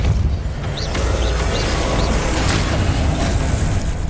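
Depulso spell cast in the video game Hogwarts Legacy on PS5: a loud, dense rumbling blast that fills the whole stretch without a break, with a few faint, higher whooshing flickers above it.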